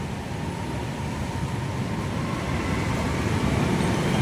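A steady low rumble of a passing LRT light rail train in Cubao, Quezon City, blends with city traffic noise, continuous and moderately loud, no voices.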